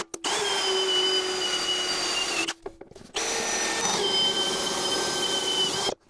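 Electric drill running at steady high speed as it pre-drills all the way through with a 3.5 mm bit, building a wine-barrel dog house; two long continuous whining bursts separated by a short pause, close and loud.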